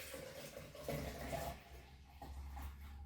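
Liquid pours and splashes into a nearby tin during American porter homebrewing extraction, a steady trickling gush with a few brief surges, no voices.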